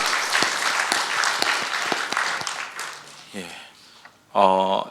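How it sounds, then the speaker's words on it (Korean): Church congregation applause during a Sunday service fills the space for a few seconds, dense clapping that fades out, followed by brief voices and a burst of music. "우리 축하하고 감사하는 박수 하겠습니다."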